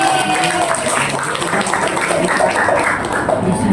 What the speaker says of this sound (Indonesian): Tepuk tangan untuk Rosi.